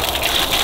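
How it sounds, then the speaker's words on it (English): Water gushes steadily from an outdoor tap on rural land, a loud, close, continuous rushing splash lasting under a second. "let's see if the water works."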